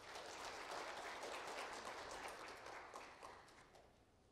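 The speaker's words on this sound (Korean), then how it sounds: "다시 한번 큰 박수 부탁드리겠습니다." An audience applauds at the opening ceremony of an intellectual property symposium, a soft even patter of many hands, fairly distant and quiet, swelling briefly before fading away.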